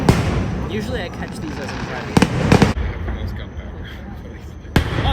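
Fireworks burst in the open during an end-of-summer display, with sharp close booms at separate moments and crackling in between, while someone talks over them.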